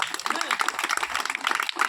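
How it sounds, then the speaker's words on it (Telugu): An audience at a village church gathering claps in a dense, uneven patter of many hands, continuous for a couple of seconds, with voices mixed in. "కొట్టు చప్పట్లు."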